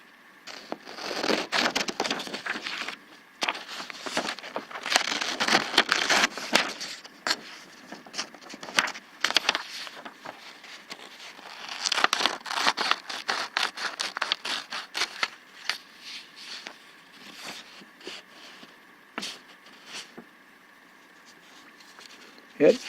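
Fiskars heavy duty 8-inch utility snips with titanium nitride coating cut through a sheet of paper, giving bursts of crisp snipping and crackly rustling with pauses between, close to the mic, with a person talking intermittently.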